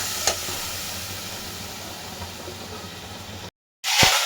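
A spice paste of ground tomato, ginger, green chilli and garlic frying in a hot pan, giving a steady broadband sizzle that holds evenly, breaks off briefly, then returns louder near the end.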